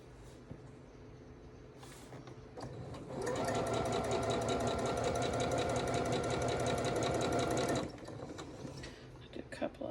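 A home sewing machine stitches quilt blocks corner to corner in a steady, fast whirring run of about five seconds, close and loud, bracketed by quieter handling noises.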